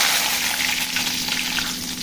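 Mustard seeds, cumin, dried red chillies and curry leaves sizzle steadily in hot oil as a tempering for pongal, a dense, continuous close-up crackle with no talk.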